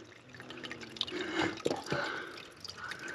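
Slow drip of water from a mountain spring tap at a last shelter kiosk on a hike near Dragon Lakes; soft, scattered drops trickling close by, faint and irregular, with no talking.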